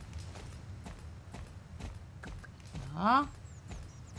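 Horse hooves clopping in the Star Stable video game while riding cross-country out of a forest, a steady soft rhythm of hoof falls under a man's brief speech.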